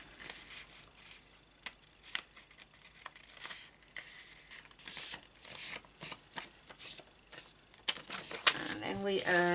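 Paper being folded and creased for an origami bow, close crinkles, rustles and sharp flicks in uneven bursts, with a brief clattery rattle near the end.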